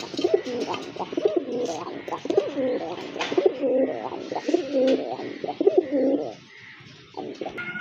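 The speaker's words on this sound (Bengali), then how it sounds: "খুবই সুন্দর কোয়ালিটিফুল এক জোড়া কবুতর, বিগ সাইজের কবুতর" A pair of large pigeons coo steadily and repeatedly up close, overlapping low rolling calls with soft rustling and faint chirps in the background.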